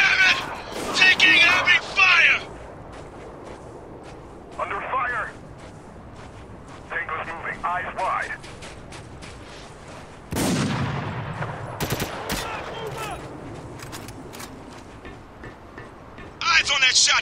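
Gunfire in Spec Ops The Line comes in loud, close bursts of rapid shots separated by pauses, with shouted voices between the volleys.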